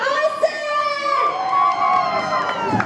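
A team of children at an outdoor Christmas event shouting and cheering together, a loud, sustained crowd of high voices with whoops, close and continuous.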